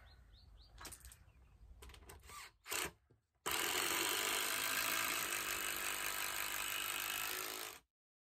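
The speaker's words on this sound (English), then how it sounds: "we'll fix them on there and just put a couple of screws down through" Screws are driven through the legs of a wooden log store frame: short whirring bursts from a cordless driver, then one long, loud continuous run lasting several seconds before stopping abruptly.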